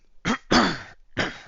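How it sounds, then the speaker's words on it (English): A person recovering from COVID gives three short harsh coughs, close and dry, separated by brief pauses. "So I've got a bit of a cough at the moment"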